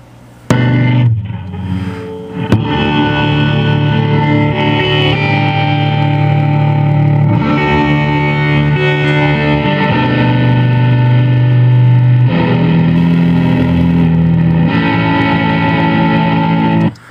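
Distorted electric rhythm guitar with a fuzzy tone and slightly out-of-tune strings, strummed chords changing every few seconds, loud and close with effects and reverb, no voices.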